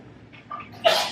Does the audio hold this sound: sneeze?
yes